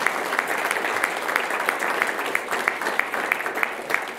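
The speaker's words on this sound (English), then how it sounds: "we'll give you a big round of applause" Audience applause at a Peoria Unified school governing board meeting, honoring a coach and athletes' families: a steady wash of many hands clapping with sharp individual claps standing out, sustained and moderately loud throughout.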